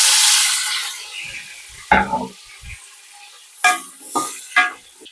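Chopped onions, five of them, tipped into a pan of hot oil with whole spices for mushroom biryani, giving a broad sizzle with stirring scrapes and a few clinks of the spoon against the pan, close and fairly loud, no talking.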